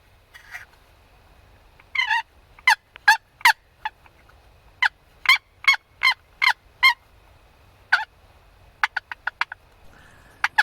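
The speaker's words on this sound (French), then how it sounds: "le taquiner un petit peu avec mon col à dindon que j'avais apporté avec moi" A friction slate turkey call rubbed outdoors during a deer hunt, giving a series of short, sharp yelps in irregular bursts, fairly close and clear against a quiet background with no talk.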